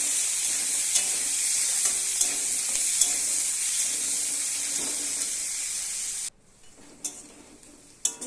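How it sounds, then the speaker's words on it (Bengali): Chopped onion and garlic, added after cumin, sizzle and fry in a pan with a steady loud hiss and occasional stirring clicks; the sizzle cuts out abruptly near the end, leaving faint clatter. "পেঁয়াজ কুচি আর রসুন কুচি দিয়ে দিলাম এবার ভেজে নিব ভালো করে"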